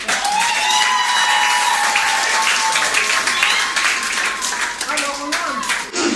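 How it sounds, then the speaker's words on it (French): A crowd applauds at a civil wedding ceremony, loud continuous clapping from many guests close by, with voices and a sustained tone mixed underneath, tapering off at the end. "Applaudissez."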